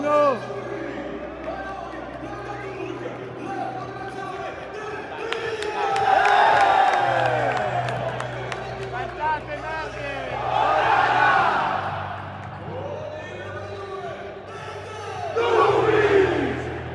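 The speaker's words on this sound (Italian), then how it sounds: "Iniziano a farsi sentire anche i tifosi del City!" A large football crowd roars and chants in a stadium at the Manchester City vs Inter Champions League final, swelling into loud surges of cheering, with a steady horn-like drone underneath.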